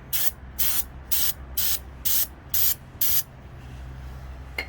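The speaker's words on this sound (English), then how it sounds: "There's some kind of solvent. I'm gonna spritz it all down." Solvent sprayed onto a Craftsman 15.5 hp engine during head gasket repair: seven short, sharp aerosol hisses in an even rhythm, close and loud, then quiet.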